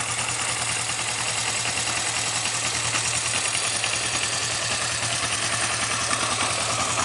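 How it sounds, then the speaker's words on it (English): Kawasaki 305 motorcycle engine idling up close, a steady, even mechanical chug with a low hum running unbroken throughout, fairly loud and alone. "Engine close up."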